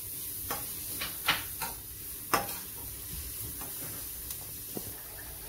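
Finely crushed chili and garlic fry in a pan, a steady close sizzle and hiss with a few sharp crackles and taps of stirring scattered across it, no voices.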